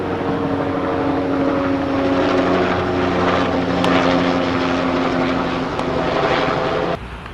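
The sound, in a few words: aircraft flying overhead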